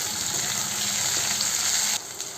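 Onion, green chilies, curry leaves and tomato fry in a pan, giving a close, continuous hissing sizzle at a steady level with no voices.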